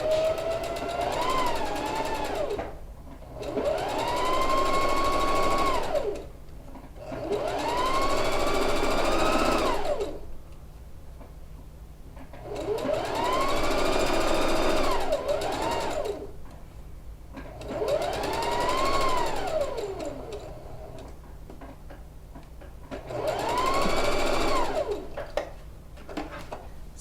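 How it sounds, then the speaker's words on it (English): Sewing machine top stitching a wrap dress where bias binding meets the front piece, running in about six sustained bursts of whirring stitching with short pauses between, close and loud. "So I'm just doing this line of stitching where the bias intersects that front piece."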